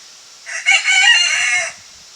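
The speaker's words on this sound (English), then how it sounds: "That is my neighbor's rooster, and I love him." A rooster crows once, loud and close, a single drawn-out call lasting just over a second with nothing else around it.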